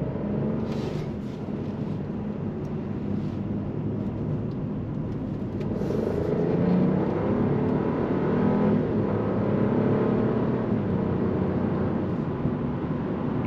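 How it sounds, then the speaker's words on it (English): The small engine of a 2024 Buick Encore GX revs and hums steadily, rising a little partway through, heard from inside the moving car with no talking. "you can hear that little engine revving."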